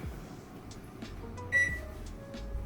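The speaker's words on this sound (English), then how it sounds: "Okay, preheating the oven now." A kitchen oven beeps as it is set to preheat, a few short electronic tones rising over a quiet room hum, with one clearer beep in the middle.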